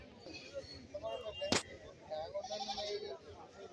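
Goats bleating at a rural goat market in Kerala, where a large billy goat stands nearby, heard as faint, intermittent calls under steady crowd chatter and someone talking, with one sharp click partway through.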